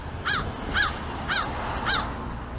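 A big crow calls from overhead with four loud, clear caws spaced roughly half a second apart, each harsh and ringing, with no talking beneath.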